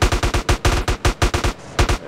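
Rapid gunshots fire in a fast, steady stream of loud, close bursts, briefly pausing before resuming, during a chase of a Volkswagen Saveiro G5 in the game MTA San Andreas.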